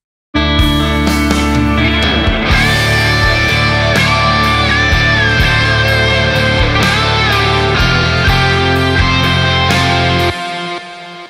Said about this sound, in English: how I go from drums that sound like this